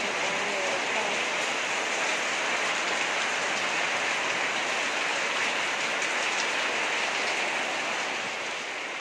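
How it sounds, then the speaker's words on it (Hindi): Steady, dense rain pours down outdoors as a broad continuous hiss, loud and close with no pauses, lasting throughout with only a slight easing at the very end. "बारिश का कोई भरोसा नहीं कब रुकेगी या नहीं"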